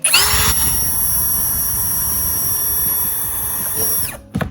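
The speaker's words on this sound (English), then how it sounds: "I'm going to take and drill some holes into this jug so you can watch" A power drill bores into a plastic jug with one sustained high whine that spins up sharply, holds steady for about four seconds, then winds down and stops, loud and close with no talk.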